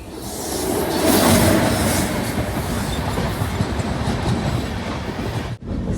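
A passenger train travelling through the Western Railway zone rumbles along steadily on rails, a broad continuous roar with rattling wheel noise, loud and close throughout.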